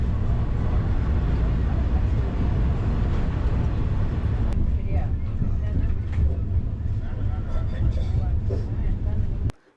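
Kovai Express train running from Morappur toward Salem, a steady low rumble and rattle of the moving coaches heard from inside, with a person talking over the constant noise until it cuts off.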